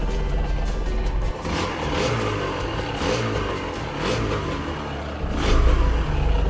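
A Kawasaki KMX 125 two-stroke motorcycle fitted with a Takasago carburetor runs steadily close by, its engine droning continuously with small swells in revs and a louder burst near the end.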